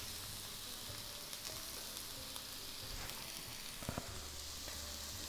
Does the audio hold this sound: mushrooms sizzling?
yes